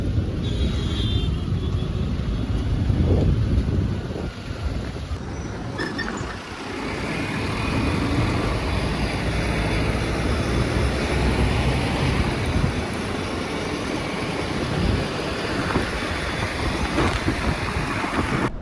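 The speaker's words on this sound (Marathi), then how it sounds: "आपण इथं ब्रिजच्या खालती आहोत, आपल्यावरती गाड्या चाललेल्या आहेत" Road traffic on a bridge overhead, heard from below as a continuous rumbling wash of passing vehicles with swells and occasional louder passes, with no voices.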